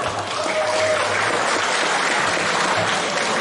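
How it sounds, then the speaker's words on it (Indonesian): A crowd at a Halal Bihalal gathering at PT JDIP Nabire applauds for the country, dense, sustained clapping that fills the space evenly from start to finish. "Tepuk tangan untuk negara kita Pak."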